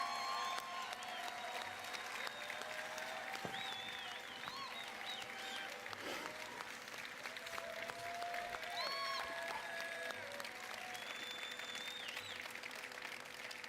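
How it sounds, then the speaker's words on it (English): A crowd at an E3 pre-show event gives light, polite clapping, a steady patter of scattered hands that stays fairly soft and continues for over ten seconds without cheering. "Give it a golf clap."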